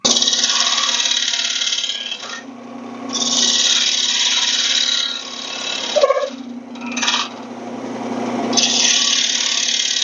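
A woodturning lathe shapes the outside of a wooden piece held on a jam chuck, like turning a bowl's exterior. The tool scrapes in long, loud, continuous passes, broken by a few short pauses and a brief knock.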